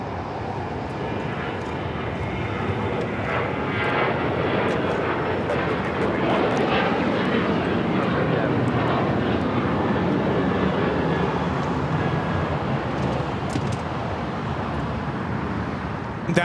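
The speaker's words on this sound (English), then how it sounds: "That was United Airlines 1571 taking off to Houston Intercontinental on the 737-900ER" A United Airlines Boeing 737-900ER takes off from Los Angeles LAX, its jet engines giving a loud, sustained broadband roar that builds and holds steadily throughout, with no talk over it.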